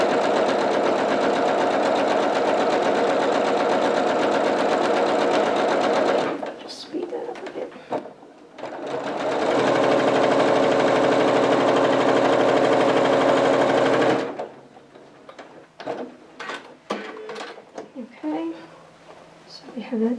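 A sewing machine stitches a quarter-inch seam on scrap strips for a string quilt, running in two steady, loud bursts of several seconds each, with quieter handling and fabric rustling in between.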